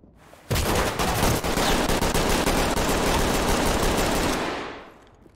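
Sustained automatic gunfire in a video game shooter, a loud continuous burst of rapid shots lasting several seconds before cutting off.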